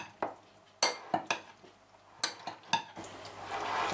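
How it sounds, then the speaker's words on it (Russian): A herring salad dressed with olive oil is stirred in a bowl, giving a few distinct clinks and scrapes of a utensil, soft and close, ending in a brief wet rustle. "оливковое масло, и все хорошо перемешиваем"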